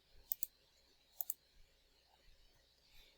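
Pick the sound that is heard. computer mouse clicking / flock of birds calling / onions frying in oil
computer mouse clicking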